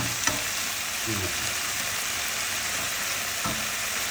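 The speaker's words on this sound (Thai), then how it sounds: "ผัดให้หอมเลย ผัดแรงๆหน่อยให้หอม" Shallot flowers and snow peas stir-fried hard over high heat in a pan give a steady close sizzle, with a few sharp utensil clicks and scrapes near the start and end.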